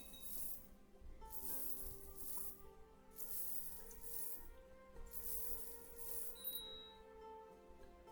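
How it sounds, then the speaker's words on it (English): Gold coins in Crusader Kings 2 clink and shower in a soft, continuous metallic rattle, swelling and fading in repeated waves beneath a steady game music bed. "You can hear the constant shower of gold in the background."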